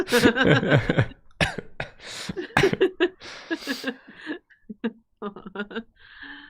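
Someone coughs repeatedly in rough bursts close by, with breathy throat sounds and gaps of silence between the fits.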